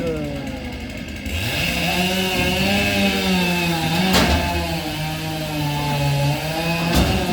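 A chainsaw at an international lumberjack competition runs loud and close, holding a steady buzzing drone with slight pitch wavers and two sharp cutting bursts.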